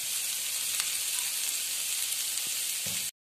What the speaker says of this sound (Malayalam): ഇനി നമുക്ക് നന്നായിട്ടൊന്ന് വഴറ്റിയെടുക്കണം